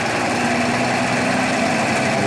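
A car engine idles steadily at about 620 RPM during a distributor test on a Sun machine, giving a continuous loud, even hum with no talking.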